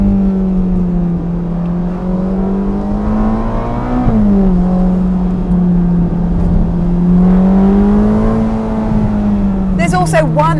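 A Ferrari Portofino M accelerates through its short-geared eight-speed gearbox, a loud steady engine drone with pitch climbing and dipping through gear changes, with a voice speaking over it.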